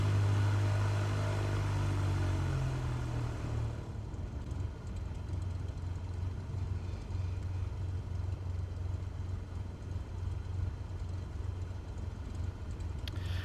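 A Cessna Skyhawk's propeller engine drones while taxiing in Microsoft Flight Simulator 2024 on PS5. A deep steady hum drops in pitch after a few seconds, then carries on as a rougher, even rumble with no speech.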